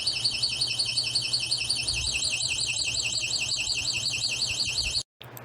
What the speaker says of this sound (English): the alarm should sound.